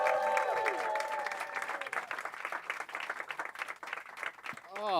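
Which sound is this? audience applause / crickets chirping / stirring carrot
audience applause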